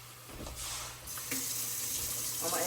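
Water runs from a tap into a pot of ramen noodles with eggs and spaghetti, a quiet, steady splashing flow lasting a few seconds.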